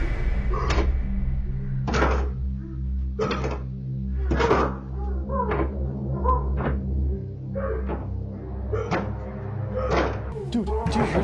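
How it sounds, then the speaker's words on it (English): Heavy thuds hit a bedroom door at irregular intervals, about eight to ten loud knocks close by over a steady low hum, with a few faint scrapes and rustles between the blows. "eventually she starts banging on the door to the room"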